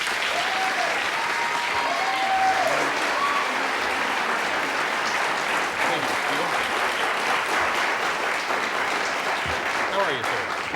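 A late-night TV studio audience applauds steadily as Stephen King comes on, a dense and continuous wash of clapping that holds its level throughout.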